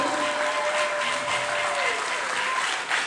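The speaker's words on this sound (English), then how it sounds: "We're gonna just give a hand of applause to Mr. President" Convention audience applauding a speaker at a political diaspora gathering in America, a dense, steady wash of clapping hands with crowd noise and a faint voice beneath, sustained throughout.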